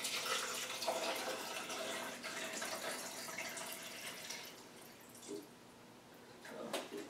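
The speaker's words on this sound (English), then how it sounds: "So let's go ahead and measure out our water." Water running steadily into a measuring vessel for mixing film developer, a continuous splashing trickle close by with slight changes in flow, no talking.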